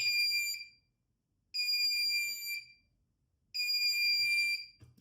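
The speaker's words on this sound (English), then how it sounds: "Active buzzer is a bit louder and a bit more emergency-like." An Arduino active buzzer from a super starter kit sounds a shrill, harmonic-rich alarm tone in three loud bursts of about one second each, separated by short silences, with no talk over it.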